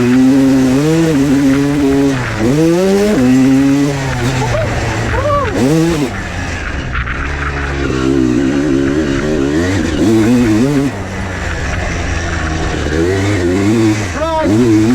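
A 21-year-old Honda CR250 two-stroke dirt bike rips over bumpy ground, its engine loud and close, repeatedly revving up and dropping back in sweeping bursts, with a voice speaking over it at times.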